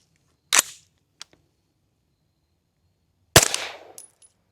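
Two sharp suppressed 300 Blackout subsonic shots, a short one followed by a louder, slightly cracky report with a trailing echo, separated by near silence and a faint click.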